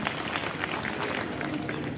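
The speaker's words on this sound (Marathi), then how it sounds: "टाळ्यांचा कडकडाट झाला पाहिजे" An audience at a public lecture in Latur breaks into applause, a dense, even wash of clapping that lasts about two seconds and sounds slightly distant.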